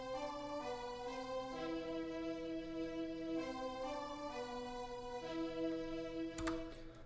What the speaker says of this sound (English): So you can hear a super simple melody, but the sound's pretty sick.